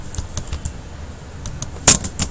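Quick, light taps on a computer keyboard, a short burst of irregular clicks close by with one louder keystroke near the end, and no voices.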